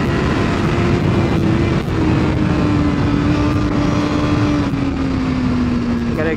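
A BMW S1000RR superbike accelerates on a race track with a loud, steady engine roar and a slowly shifting pitch, heard close from onboard the bike.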